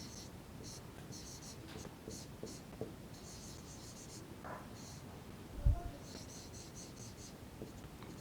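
A pen scratches across paper in short rapid bursts while solution steps for a triangle congruence problem are written out, faint and close, with a soft thump near the end.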